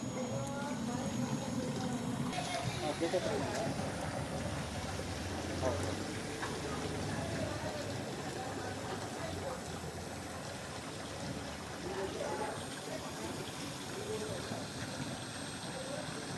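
Water streams steadily from a borewell pipe with the pump motor switched off, a continuous close rushing wash lasting throughout while people talk nearby.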